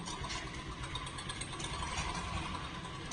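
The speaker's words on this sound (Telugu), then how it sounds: "దెబ్బంటే స్టార్ట్ అయింది బండి." A motorcycle, just kick-started after a battery swap, idles with a steady, close engine rumble and a light mechanical rattle that holds without a break.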